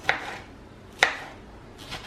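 A knife chops tomato on a cutting board in three sharp, evenly spaced strikes, close by with quiet pauses between.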